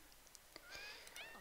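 A cat meowing in The Sims 4 video game, a faint short meow followed by a rising, wavering second meow over a quiet background with small clicks.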